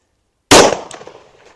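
One sharp, loud handgun shot fired into ballistic gel on an indoor test setup, bursting out of silence and decaying quickly with a brief reverberant tail.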